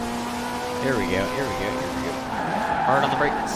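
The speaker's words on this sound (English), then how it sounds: "Hard on the brakes." A race car in Forza Horizon 4 brakes hard on a street race, its tires squealing in wavering, skidding tones over a steady engine drone as it slows to pass a Lamborghini Huracán.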